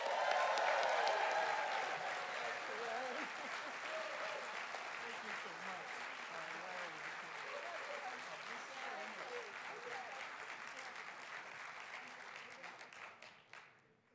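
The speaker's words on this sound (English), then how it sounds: "give them a Texas big round of applause" A large crowd applauds loudly, the clapping dense and sustained, gradually easing toward the end with faint voices underneath.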